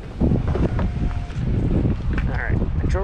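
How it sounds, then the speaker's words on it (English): Outdoor wind buffets the microphone in low rumbling gusts beside a roadside trash pile, loud and close throughout, with someone talking over it. "of course the wind picks up."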